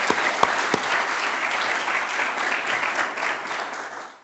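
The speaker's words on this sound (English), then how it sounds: "if we can just put another round of applause" Steady applause from a seminar audience at a marine mammal conservation talk, dense and even clapping lasting the whole stretch with a few sharper claps standing out near the start.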